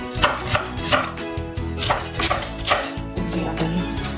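A knife chops through Asian greens stems on a cutting board, cutting them in half with a quick series of crisp, close knocks in a steady rhythm, with no talking.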